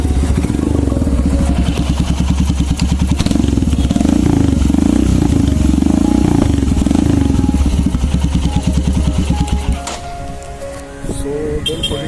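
A Royal Enfield Himalayan with a newly fitted exhaust idles close by, giving a loud, steady, deep thumping beat that carries on for about ten seconds before easing off and settling lower near the end.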